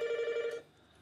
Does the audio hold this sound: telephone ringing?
yes